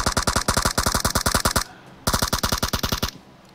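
Rapid automatic gunfire from the PUBG Mobile battle royale game, two loud sustained bursts of evenly spaced shots, the first about a second and a half long, a short pause, then a second burst, fairly close.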